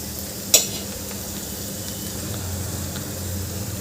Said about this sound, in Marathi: हे एक मिनटं परतून घ्यायचे मसाले